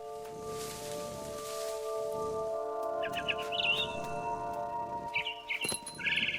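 Bird chirping in the video game What Remains of Edith Finch: short bursts of high twittering tweets over a steady tonal game hum and soft rustling, fairly close and moderately loud.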